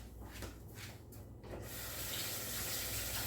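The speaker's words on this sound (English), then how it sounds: "So let me give my hands a quick rinse." Kitchen tap running as hands get a quick rinse, a close, steady rush of water with splashing, growing fuller and louder partway through.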